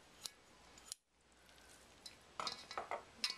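Kitchen scissors snip through cooked Korean glass noodles for beef and vegetable jap chae, giving a few sharp, close metallic cuts separated by short pauses, with no talking.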